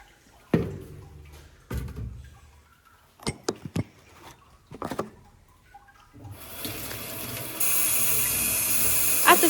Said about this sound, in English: At the sink, I'm just going to add a little bit of water to my bucket and rinse it all the way out